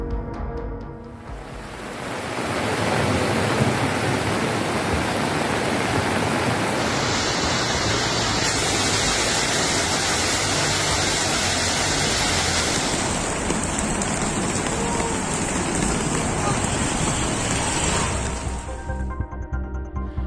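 Heavy rain pours during a storm with flash flooding in Montevideo, a dense, steady roar of water that swells after a quiet start, holds loud throughout and fades at the very end.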